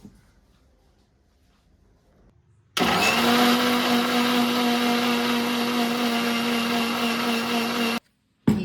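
An Indian mixie grinder, a kitchen mixer, grinds spices, oil and coriander powder into a paste. It starts abruptly with a loud, steady, high-pitched motor whir that runs for about five seconds and then cuts off sharply.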